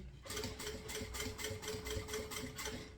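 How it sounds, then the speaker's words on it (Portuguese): A sewing machine stitches a fabric bag in a fast, even rhythm of repeated needle strokes with a steady motor hum, close and continuous with no talking. "Vou costurar para não aparecer essa costura do outro lado"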